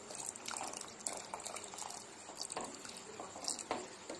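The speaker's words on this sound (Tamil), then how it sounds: "நம்ம கொஞ்சம் கொஞ்சமாக ஊற்றி கலந்துக்கலாம்" A dissolved mixture is poured little by little into milk for kulfi, making soft, faint liquid splashing and trickling with small scattered splats.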